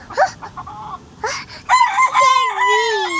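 A young chicken crows in a clear, drawn-out rising and falling call, preceded by a few short clucks. The bird sounds close on a Philippine farm, with no talk over it.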